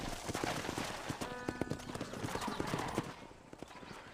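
Horse hooves clip-clopping in the Red Dead Redemption video game, a steady run of close hoofbeats with brief talk and game sounds in the background.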